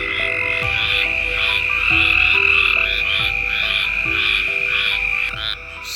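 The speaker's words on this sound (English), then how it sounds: "So many gray tree frogs." Gray tree frogs trill loudly and continuously at night on the Forgotten Coast, a dense chorus of overlapping pulsed calls close by with no talking.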